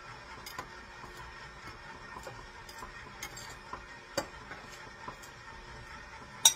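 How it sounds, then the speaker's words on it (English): Cookie mixture being stirred in a bowl, heard as faint, irregular scraping and light clicking taps of a utensil against the bowl, fairly quiet and without talking. "I'm just gonna stir that up a bit here"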